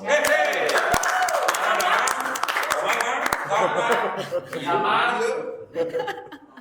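A theatre audience applauds students being introduced, dense rapid clapping mixed with chuckles and laughter and voices talking over it, loud and steady before tapering off at the end.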